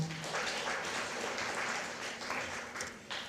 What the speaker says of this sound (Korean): 다시 한 번 더 박수 부탁드립니다.